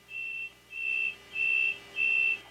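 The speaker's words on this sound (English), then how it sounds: "The evacuation alarm sounds." Lockheed L-1011 evacuation alarm sounding aboard the aircraft at an armed cabin door: four steady high-pitched electronic tones, each about half a second long, separated by short gaps, clear and fairly near, with no talk.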